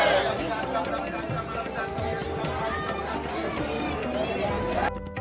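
A dense crowd of temple visitors jostles and chatters at a Vrindavan temple gate, a steady close hubbub of overlapping voices and shuffling feet that carries on throughout.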